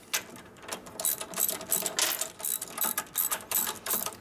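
A bolt is threaded by hand tool into the frame of a 1941 74ci Knucklehead bobber motorcycle, giving quick repeated ratcheting clicks in an uneven rhythm, close and fairly loud, with no talk.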